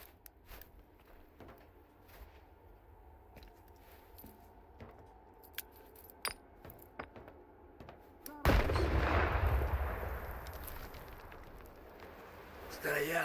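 Unsuppressed rifle gunfire in S.T.A.L.K.E.R. 2, a sudden loud blast followed by a booming rolling echo, preceded by quiet clicks and handling noises and faint background voices.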